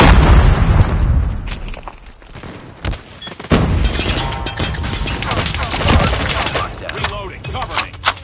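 Loud booming explosions and bursts of gunfire in Call of Duty Mobile, a heavy blast up front followed by further impacts and shots in a chaotic firefight.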